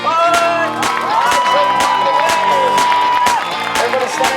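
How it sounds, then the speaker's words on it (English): A live audience at a comedy hypnosis show cheers, whoops and applauds loudly and steadily, with a host's voice and sustained shouts carrying over the crowd noise. "Make some noise, ladies and gentlemen, for the stars of the show"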